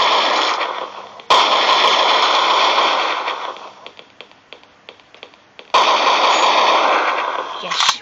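Rapid automatic gunfire from the mobile shooter game Crisis Action crackles in two long, loud sustained bursts, with scattered sharp single shots and taps in the gap between them.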